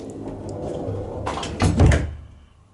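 A DIY barn-door-style sliding door rolls along its track with a low rumble, then hits the end stoppers with a firm thud and settles, heard close and alone in a quiet room.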